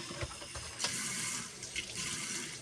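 Tap water runs into a sink while eggs are rinsed under it, a steady close splashing hiss with small shifts as the flow hits the shells.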